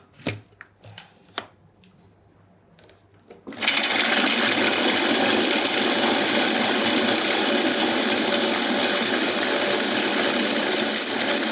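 A food processor blends hazelnuts and cereal into a praliné: a few faint clicks and knocks, then the motor kicks in with a steady, loud, grinding whir that runs on unbroken.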